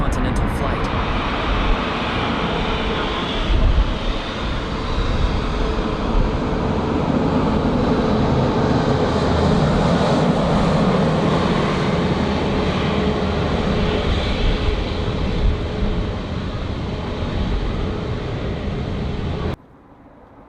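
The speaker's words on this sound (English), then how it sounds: "This final descent moment captures the plane gracefully tilting its wings before touching down on the runway" Airliner descending and touching down on a runway in Phuket, a loud continuous broadband roar of engines and rushing air sustained for about twenty seconds before cutting off abruptly.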